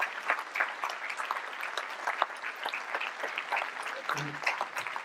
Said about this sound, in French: je pense qu'effectivement on peut l'applaudir